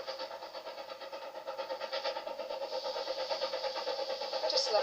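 A steady, rhythmic chugging of a running steam locomotive in Scotland between Fort William and Mallaig, with fast repeating beats, growing slightly louder, with a brief high hiss near the end.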